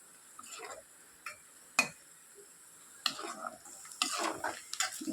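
Prawns fry in a pan over a low flame while being stirred, giving intermittent scraping and tapping strokes with a faint sizzle between them and no talking.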